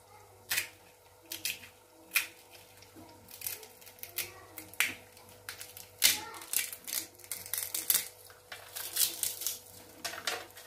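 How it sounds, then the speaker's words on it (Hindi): A crispy fried pani puri shell breaks by hand in a home kitchen, giving a string of sharp, close crackles and crunches that come in bursts through the stretch, with faint talk in the background. "ये देखिए कितना क्रिस्पी सा बना है कितना क्रंची सी आवाज़ आई है इसमें से बहुत ही परफेक्ट पानी पूरी बने थे"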